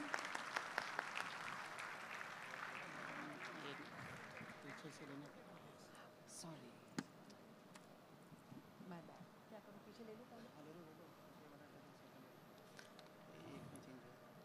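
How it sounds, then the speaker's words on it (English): Audience applause at a Gujarat energy conference, a burst of clapping up front that thins into a long, quieter patter of scattered hands, faint and somewhat distant. "Can we have a huge round of applause"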